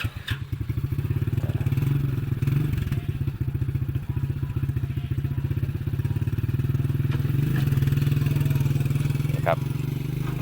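A used three-wheeled motorcycle in near-new condition with only 80 km on the clock chugs along with a steady, low, rhythmic engine putter and light rattles, heard up close on a football field beside a temple.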